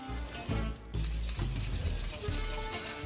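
Food sizzling and frying in a pan, a steady loud crackle and hiss that carries on unbroken, with no voices over it.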